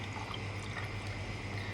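Soda water pours steadily into a glass with a quiet, fizzy rushing sound that stays even throughout.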